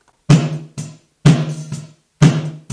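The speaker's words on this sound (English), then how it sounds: "after I mucked around with it, it was gonna sound like this." A processed home-recorded snare drum cracks out in a steady pattern, a strong hit followed by a lighter one roughly every second, each with a ringing body tone and a short decay, up close with no other sounds.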